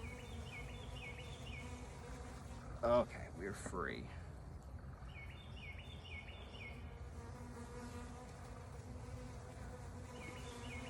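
Steady buzzing of many honeybees around a 20-frame hive fills the whole clip, close and continuous, with a brief spoken remark near the start.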